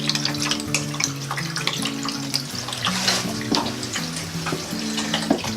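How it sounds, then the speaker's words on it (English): Water trickles and drips steadily through household pipes during plumbing work, a continuous close splashing wash with scattered drips, alone with no talk. "you can hear the water trickling down"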